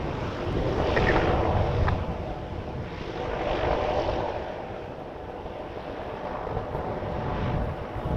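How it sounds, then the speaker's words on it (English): A Boeing 737 Max 8 airliner on final approach at Vancouver Airport gives a loud, steady engine roar that swells and fades in broad waves, heard from the ground with no talk. "And a Max 8 on final."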